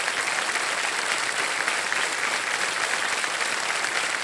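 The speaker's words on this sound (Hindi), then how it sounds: "तालियां बजती रहें इनके लिए।" Studio audience applause on the quiz show Kaun Banega Crorepati, a steady, full burst of clapping from the crowd, loud and sustained with no voices over it.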